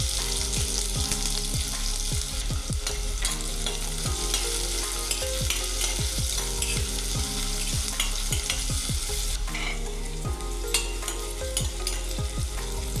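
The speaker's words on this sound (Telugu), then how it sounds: "ఉల్లిపాయలు కూడా ఫ్రై అయ్యాయండి." Chopped onions fry in hot oil with cumin for a chicken liver dish, a continuous loud sizzle and crackle with repeated scraping stirs of a spoon against the pan throughout, close up and with no talking.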